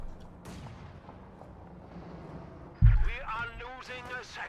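Panzerwerfer rocket artillery in the World War II strategy game Company of Heroes 2 launches with a sudden loud boom partway through, then a rapid series of rocket shrieks, under steady commentator talk.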